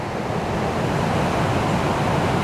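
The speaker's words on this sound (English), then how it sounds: "So here's the falls, and this is the Ocqueoc River." The Ocqueoc River waterfall in Millersburg, Michigan, a steady close rushing roar of falling water, broadband and unchanging, with a little wind and no voices.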